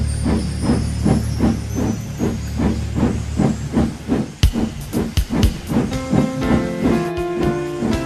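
A steam locomotive puffs along the line in a rapid, even chuff with hissing steam, close and loud, then breaks into a series of heavy clanks and bangs as the rhythm stops and a sustained tone lingers.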